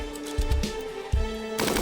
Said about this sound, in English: That gunfire's gonna rip him to shreds.